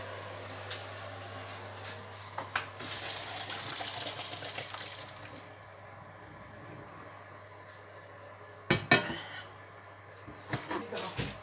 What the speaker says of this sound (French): Maintenant, je vais tout verser dans une passoire.